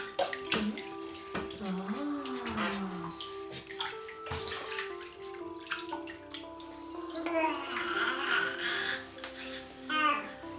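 Water splashes and trickles during a three-month-old baby's bath in a small tub. Someone talks softly throughout, and the baby makes small vocal sounds.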